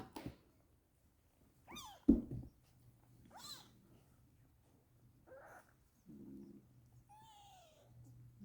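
A tailless cat giving a few soft, separate meows with quiet pauses between them, close and faint, along with small handling noises.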